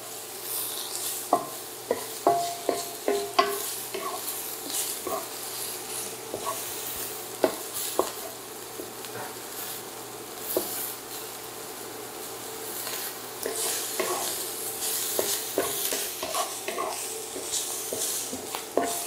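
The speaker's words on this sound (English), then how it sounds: "the peppers have had a nice little stir." Peppers being stir-fried in a pan for japchae: a soft, steady sizzle with repeated scraping stirs and light clinks of utensil against pan, close and alone without talk.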